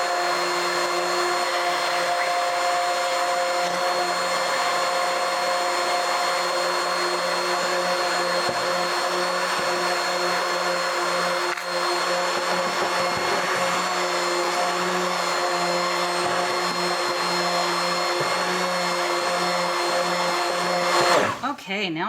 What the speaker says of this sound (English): I'm gonna have to turn my mixer up now.